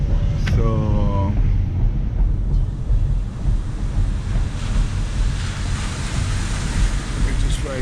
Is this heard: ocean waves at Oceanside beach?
yes